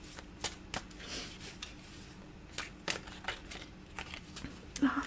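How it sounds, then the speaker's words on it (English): Tarot cards are shuffled by hand in a series of close, crisp riffles and snaps at an uneven pace, with faint background murmur. "Shuffling is not easy anymore for me."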